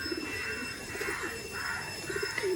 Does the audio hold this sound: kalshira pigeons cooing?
yes